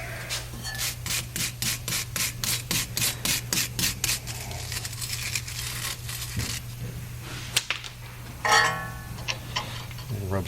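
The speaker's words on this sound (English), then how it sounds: "We'll clean it up a little bit with the wire brush." A wire brush scrubs scale off the tone wheel of a hub bearing assembly on a Land Rover LR4, giving a run of rapid, evenly spaced rasping strokes up close, then a few scattered scrapes and clinks over a steady background hum.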